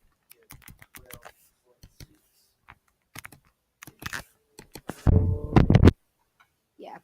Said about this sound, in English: And we type that in our calculator.